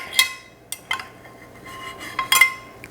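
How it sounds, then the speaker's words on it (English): A small spatula scrapes and clinks against a baking pan to free a stuck kiwi quick bread, several short metallic scrapes and taps spread apart, close and fairly quiet. "We will just use a little spatula here."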